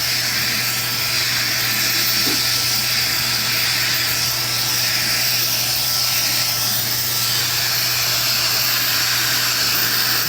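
A hair blower runs without a break as a loud, steady broadband whoosh with a constant low hum underneath, no pauses and no voices.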